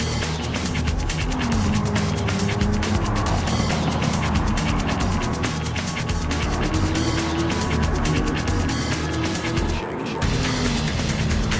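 Race cars in a racing game, including a Group 3 road car Corvette, roar along the track in a steady, dense engine drone. Pitch shifts as the cars brake and accelerate, with faint commentary underneath.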